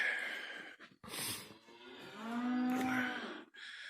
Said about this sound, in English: feed that old cow her last her last meal